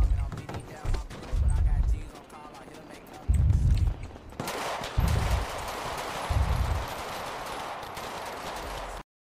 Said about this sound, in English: this gun shoot quick as hell